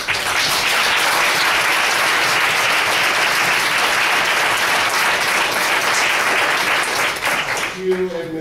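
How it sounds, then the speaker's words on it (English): Sustained applause from a conference audience at a plenary session, dense and steady for about seven seconds before fading out, with a voice beginning to speak as it dies down. "let's just give a round of applause to all of them"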